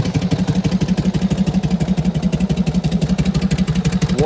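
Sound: motorcycle engine idling

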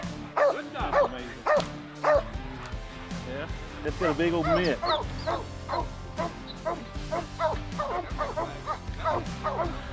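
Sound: hunting hounds barking and yipping after a bear hunt

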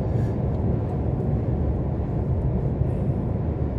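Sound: car driving noise on the Kyushu Expressway

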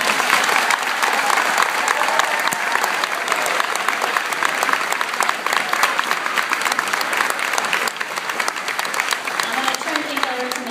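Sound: audience applause at a school choral concert

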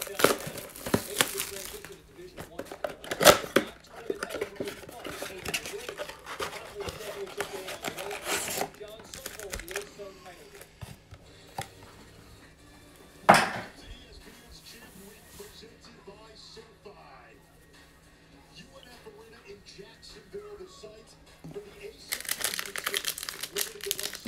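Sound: ripping open Panini Hoops basketball card blaster packs

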